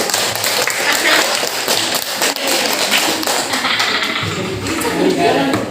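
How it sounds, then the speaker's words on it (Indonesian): A group in a classroom claps a rhythmic 'circle' clap pattern, dense overlapping taps and claps in a busy, steady flow, with voices mingling throughout. "Beri tepuk lingkaran ya, lingkaran."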